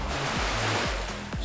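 Ocean waves wash onto a beach at high tide on Hong Island in Krabi, Thailand, a close, continuous wash of surf with no talking.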